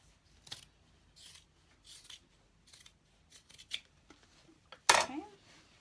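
Scissors snip through fabric while a beauty bag is being sewn, a run of soft, close cuts in uneven rhythm ending with a louder, sharper snip, quiet throughout.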